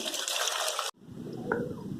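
Water drained from washed potatoes and eggplant pours out in a loud rushing splash, cuts off sharply, then continues as a softer, lower flow close by.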